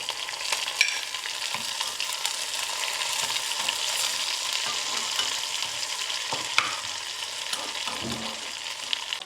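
Curry leaves and dried chillies frying in hot oil for a Kerala dry fish curry, a steady soft sizzle with faint crackles and a few stirring clicks throughout.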